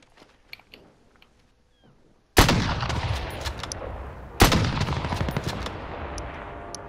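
Two loud, close gunshots in Call of Duty: Modern Warfare mini royale, a couple of seconds apart, each cutting in sharply and trailing off in a long echoing rumble after quiet game sounds.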